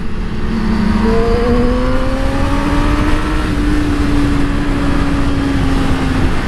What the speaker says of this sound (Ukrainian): Машинка теж виїхала обганять.